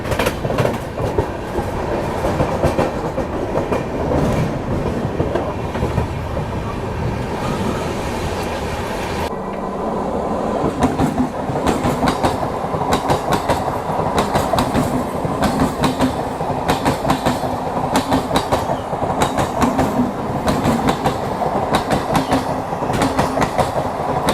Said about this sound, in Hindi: सामने एक ट्रेन खड़ी है, इसको मार रहे हैं हम लोग यहाँ पर ओवरटेक।